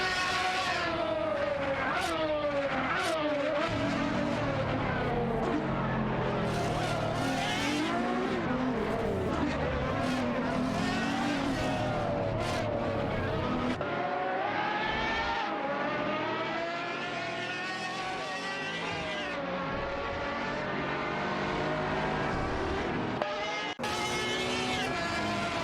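Video game race cars, a Pagani Huayra BC against a Ferrari Monza, with loud, continuous engine whine that rises and falls through gear changes and revving, plus occasional tire squeal.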